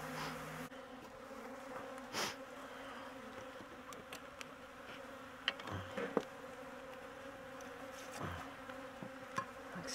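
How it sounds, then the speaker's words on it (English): Agitated honey bees buzz steadily around an open hive during syrup feeding, a continuous close drone with a few louder passes near the ear. "Man, I've got these bees stirred up."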